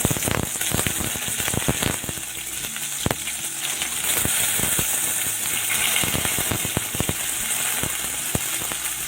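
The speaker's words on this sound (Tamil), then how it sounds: "ஆயில் ஹீட் ஆனதும் நம்ம ஆனியன் போட்டுக்கலாம்" Onions frying in hot oil for chana masala, a loud, dense, crackling sizzle with rapid irregular pops and spatters sustained close up, no talking.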